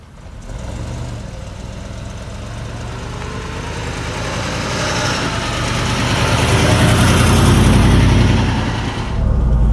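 A 1971 Mercedes 280 SE 3.5 Cabriolet's engine runs steadily near the microphone, a smooth low rumble that swells gradually louder toward the end before easing off.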